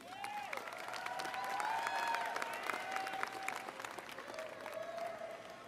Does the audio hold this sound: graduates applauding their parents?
yes